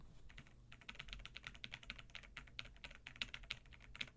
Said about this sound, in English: all I'm doing is pressing keys